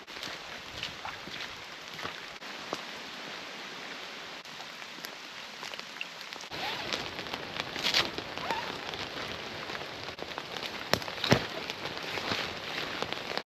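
Rain falls steadily on a campsite during a storm, a soft, constant patter of drops with occasional sharper taps. The sound is quiet and even and runs throughout with no talk.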